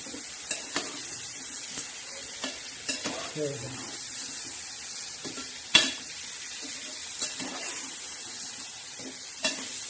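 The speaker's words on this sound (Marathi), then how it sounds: "आता हे आपण मस्तपैकी छान असं हलवून घेणार आहोत" Eggplant and potato curry with dried bombil and tomato sizzles steadily in a pan while a spoon stirs it, giving repeated scraping clicks and taps at an uneven rhythm, close and moderately loud with no talking.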